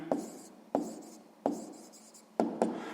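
A pen writes an answer by hand on paper in a maths exercise, giving soft, close scratching strokes broken up by four or five sharper taps as it meets the page.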